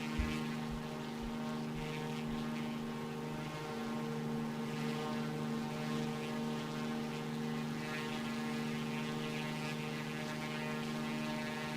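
A propeller plane engine in Microsoft Flight Simulator 2024 holds a steady, droning hum at an even level throughout, with a strong low buzzing tone and no voices.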